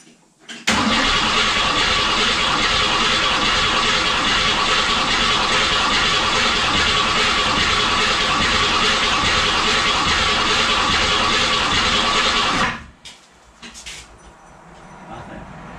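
A Summit 302 crate engine in a 1967 Mustang cranks and fires on its first start, then runs loud and steady for about twelve seconds before cutting off abruptly, leaving quiet background.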